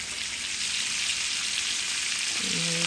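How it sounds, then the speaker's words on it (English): Filet mignon sears in a hot pan while being basted with oil, giving a loud, steady sizzle and crackle that fills the whole moment with no voices. "Baste it with that oil."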